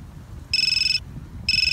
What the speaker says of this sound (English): those little audio chimes will happen whether the phone is unlocked or locked.